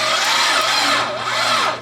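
A car engine that sat in a field for ten years cranks over with a loud, close, continuous churning whir for about two seconds, wavering slightly in pitch, with no voices.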